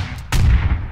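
Gunfire in a first-person shooter game, one sharp loud shot followed by a booming low rumble that rolls on and slowly decays.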